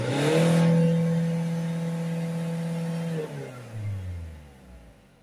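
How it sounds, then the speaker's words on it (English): A Citroen C4 diesel engine with a particulate filter fault revs loudly and holds a high steady pitch for a few seconds, then drops back down toward idle, heard close up with no talk. "we're giving it some revs there"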